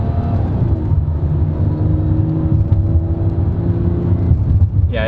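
Interior of a 2004 Dodge Intrepid SE with the 2.7L engine under acceleration: a loud, steady rumbling drone with rising whirring tones, continuous throughout with no talk.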